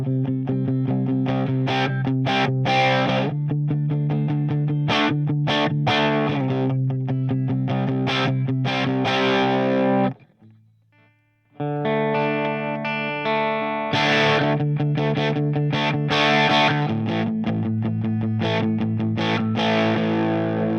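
Overdriven electric guitar played through a Line 6 Spider Valve MKII amp with reduced bass and mids and boosted treble, producing a crunchy distorted tone in sustained chords and riffs, with a brief near-silent pause midway.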